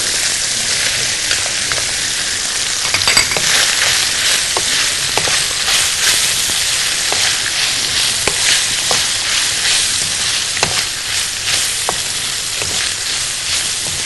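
Onions hit a pan alongside lightly salted and peppered minced meat, a loud, dense, continuous sizzle with crackling pops running steadily throughout, no voices.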